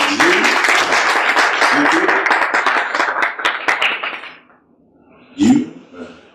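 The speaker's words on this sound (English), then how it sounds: "let's give a round of applause to Gr8jobsng" Crowd applause at a product launch press briefing, a few seconds of brisk, dense clapping that fades out, followed by a brief spoken word.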